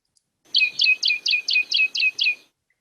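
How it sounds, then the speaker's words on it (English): A male medium tree finch with normal, unparasitized nares calls in a steady series of about eight short, bright chirps, evenly spaced and close, with quiet in between. "the sound of the medium tree finch when it has the normal nose"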